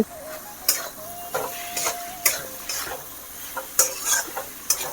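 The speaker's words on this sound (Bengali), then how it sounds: "এখন আমি আগের থেকে ভেজে রাখা ফুলকপি দিয়ে দিচ্ছি" Pre-fried cauliflower goes into a spiced masala and is stirred, giving sharp utensil scrapes and clinks at irregular intervals over a steady sizzle of oil, close and fairly loud, without speech.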